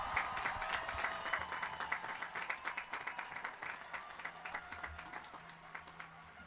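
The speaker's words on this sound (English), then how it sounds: "one more round of applause for our 2023 seniors" A crowd applauding steadily at a high school graduation, many hands clapping together in a dense patter that carries on for several seconds.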